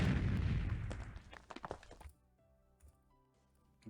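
Zapper weapon fired in the Pocket Tanks video game: a burst of sharp crackling electronic impacts that fades into a quiet low-pitched game tone, with no talking.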